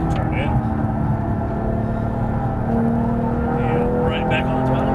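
A 2015 Porsche 911 GT3 accelerates on the Las Vegas Motor Speedway track, its engine droning loud and steady from inside the car with a slowly rising pitch. A voice talks over the engine.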